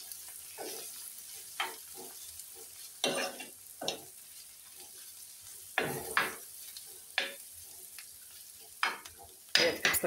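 Onion and hot pepper frying in a tagine pot, soft sizzling broken by a series of sharp stirring scrapes and clinks at irregular intervals, no talking.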